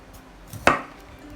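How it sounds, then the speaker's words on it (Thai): A Rhino premium kitchen knife slices through a lime with thick peel in one sharp, close chop, with a brief soft press just before the blade cuts through. "มะนาวนี้ถ้า มีดไม่คมจริงๆก็เปลือกมันจะหนาหน่อย มันก็จะหั่นไม่ค่อยเข้า"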